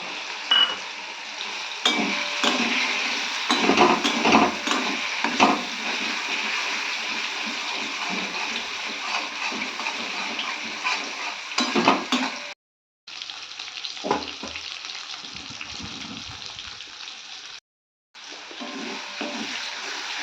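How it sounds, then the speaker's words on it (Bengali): Chili powder, turmeric powder and ginger fry in oil in a pan, giving a loud, steady sizzle with stirring scrapes that continues for the whole stretch, broken only by two short silent gaps. "তো দেখতে পাচ্ছেন মশলাটা আমার ভাজা হয়ে গেছে।"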